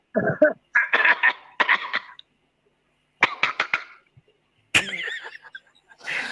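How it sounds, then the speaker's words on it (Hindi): A series of harsh coughs in several bursts, close to the microphone, with short pauses between fits and a final rough cough near the end. "मेरे को तो खांसी आ रही है"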